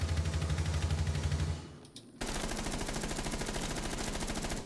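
Rapid automatic gunfire in Rainbow Six Siege, a steady stream of loud, evenly spaced shots that breaks off for a moment, then resumes as another sustained burst, with no talking over it.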